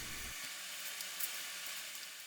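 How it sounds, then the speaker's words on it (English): Four thick strips of bacon frying in a pan, a steady bright sizzle and crackle holding throughout at a soft level, with no talking. "Next, we're frying up 4 thick strips of bacon."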